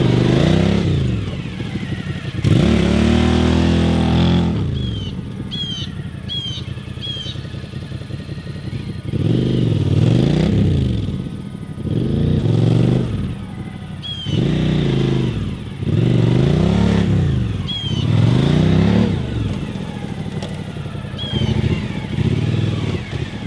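A 2018 Suzuki V-Strom 1000 adventure bike on Dunlop Trail Max Mission tires makes slow pivot turns, its engine repeatedly revving up and dropping back in rhythmic surges close to the microphone, with brief clatters between throttle blips.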